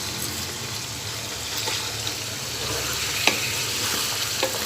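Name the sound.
whole spices sizzling in hot oil for chicken pulao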